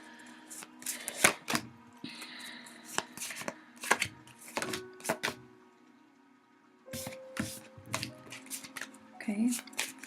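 Tarot cards being shuffled by hand for a weekly reading, irregular bursts of crisp riffling and slapping close up, with a pause in the middle and faint murmuring voice at times.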